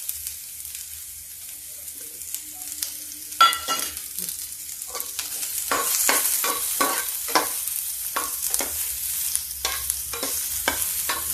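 Garlic and onion sizzling and crackling in oil in a pan as they fry, with occasional stirring scrapes and clinks, steady and close, no talking.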